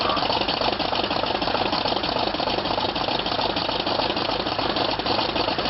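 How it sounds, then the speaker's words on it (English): A Corsair aircraft's radial piston engine starts and runs loudly and continuously with a rough, pulsing clatter, close by and uninterrupted, at an air show. "Well, the Corsair has burst into life."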